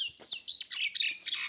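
Sparrows chirp in quick, bright bursts, a run of short tweets and trills close by, with the lively calls of other small birds in a rural hill setting.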